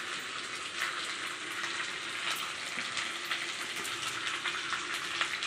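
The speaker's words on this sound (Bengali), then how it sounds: "এই যে আলু ভাজা হচ্ছে, আলুগুলো লাল লাল করে আমি ভেজে নিয়েছি।" Potato pieces fry in hot oil in a pan while an aloo dum curry is prepared, a dense steady sizzle with crackling pops throughout, close and continuous with no voices.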